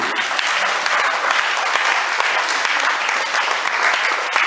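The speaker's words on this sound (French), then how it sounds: "Est-ce qu'on peut acclamer la parole de Dieu?" Loud, steady applause from a church congregation fills the room, a dense wash of many hands clapping without pause.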